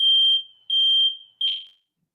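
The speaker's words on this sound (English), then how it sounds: "My fire alarm's going on right." A household smoke alarm, set off by cooking downstairs, sounds three loud, shrill beeps at even intervals. The last beep fades away into silence.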